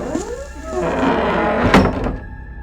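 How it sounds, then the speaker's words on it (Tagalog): A door closes in a dramatized horror-story sound effect: a creaking sweep gives way to a solid thunk and rattle of the latch near the end, close and fairly loud. "habang nagsasara ako ng pintuan"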